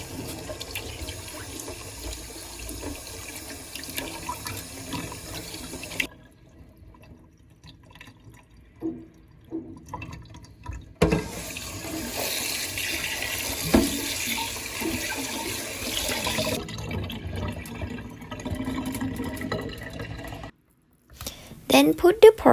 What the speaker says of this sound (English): I clean pork with water and salt twice to reduce the smell from the pork.